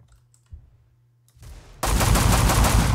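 Gunfire in a Wild West video game: after a few quiet clicks and thuds, a loud sustained burst of rapid shots erupts and continues without pause to the end.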